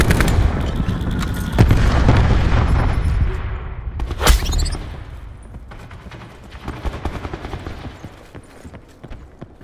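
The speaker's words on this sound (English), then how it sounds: "Cluster grenade." Cluster grenade blasts and gunfire in a video game, with a string of rumbling booms and rapid crackling shots, one sharp louder blast in the middle, then scattered bursts fading into lighter fire.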